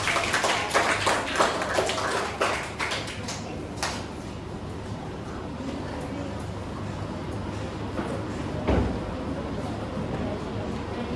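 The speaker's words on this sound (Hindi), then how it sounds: "तालियां बजा लो अपने लिए" A group of schoolchildren in a classroom session clap for themselves, a burst of scattered close claps in the first few seconds that thins out, followed by quieter room noise and a single later tap.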